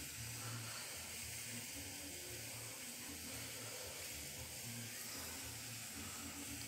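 Water heating toward a boil in a pot, a steady close hiss and low bubbling rumble that runs unbroken throughout, with no voices.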